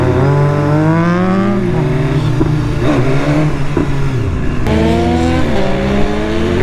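A BMW S1000RR motorcycle engine revs loudly nearby, its pitch climbing and falling through several sweeps, with a sharp shift partway through before it winds up again.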